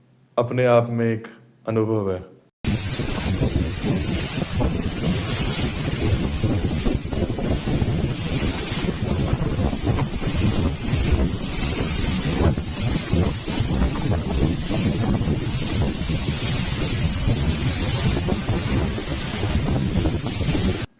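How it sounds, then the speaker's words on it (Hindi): Fast, heavy water pours down the Milky Waterfall at Birthi in cold weather, a loud, steady, close-up roar that runs unbroken after a brief stretch of talking at the start. "वाटर का फ्लो बहुत ज़्यादा तेज़ है,"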